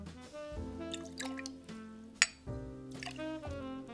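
Blueberry lavender tea pours and trickles into a glass with a bright clink partway through, while steady tonal music plays in the background.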